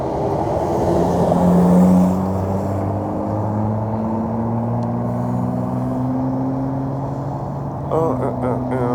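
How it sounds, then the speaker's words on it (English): A long string of cars rolls past on a road approaching a red light, a continuous rumble of engines and tires with one louder pass early on, and a voice speaks briefly near the end. "Giant string of cars about to come up in the red light."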